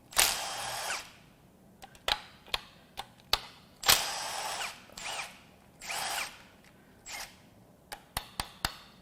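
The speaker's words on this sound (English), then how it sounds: "The first thing I'm going to do is remove the timing chain tensioner. We're just going to take the bolts out" A power tool removes the timing chain tensioner bolts on a Ford 3.7/3.5 Cyclone V6 engine, with repeated short whirring bursts and sharp clicks, close by and fairly quiet.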